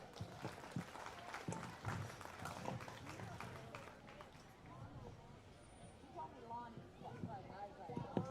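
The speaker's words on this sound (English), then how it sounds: "Let's send them back to their pen with another round of applause." A crowd claps steadily in a broad wash of applause at a county fair 4-H/FFA market hog show, with a voice talking over it throughout.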